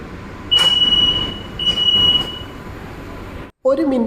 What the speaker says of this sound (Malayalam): നമ്മുടെ ട്രെയിൻ അങ്ങനെ ഒരു മിനിറ്റിന് ശേഷം ഇപ്പോൾ വീണ്ടും ഇവിടുന്ന് പുറപ്പെട്ടിരിക്കുകയാണ്